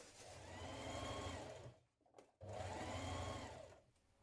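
A sewing machine top-stitching along a fabric edge of children's dungarees, two bursts of steady rapid mechanical whirring separated by a brief pause, close and clear with no talking.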